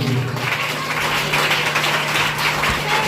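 A congregation at a Christian worship service claps loudly and steadily for the whole stretch, a dense wash of hand claps over a low continuous hum.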